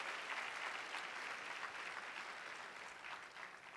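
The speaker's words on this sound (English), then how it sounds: "Give him another round of applause" Steady applause from an audience at a faith leaders' rally for paid family leave, a dense unbroken wash of clapping at moderate level that holds for several seconds and tapers slightly.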